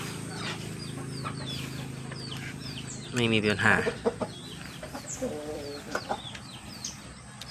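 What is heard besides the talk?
chickens clucking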